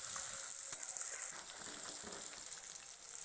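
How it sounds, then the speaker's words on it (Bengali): Ground spice paste frying in a pan for a Bengali pui shak and shrimp dish gives a continuous, even, bright sizzle with soft crackles throughout, close and unbroken, no voices. "বেটে রাখা মশলাটা দিয়ে একটুখানি কষিয়ে নেব"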